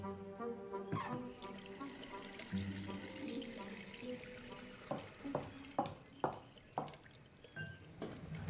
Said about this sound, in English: Please wash your hands.